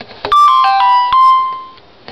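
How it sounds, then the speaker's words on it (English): Text message alert tone from a Samsung Genio Touch phone, a loud, close sequence of bright chiming notes that rings out and fades, with no talking. "Okay, that's just a text, so let's have a look."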